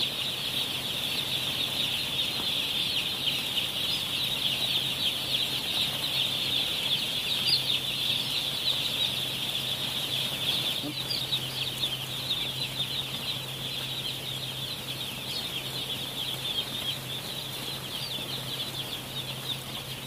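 Chickens on their first day in a brooding pen at 2 a.m. rustle and murmur softly amid a constant high insect-like hiss and low hum, a calm nighttime coop atmosphere with no talking.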